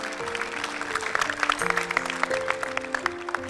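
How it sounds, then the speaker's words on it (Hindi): Audience applause for a quiz show contestant on Telenor I-Champ, a steady patter of clapping hands with a few louder claps rising midway, while music tones hold underneath. "उसके लिए तालियां बजाओ क्योंकि उसने इतने अच्छे जवाब दिए हैं"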